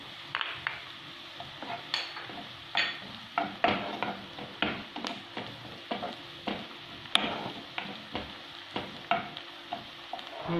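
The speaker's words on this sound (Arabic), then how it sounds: "وكي تقلى مليح البصل نزيد عليه الثوم." Onion and garlic fried in a pan for a minced-meat potato gratin: a soft sizzle runs under a steady series of close utensil scrapes and taps against the pan, with no voices.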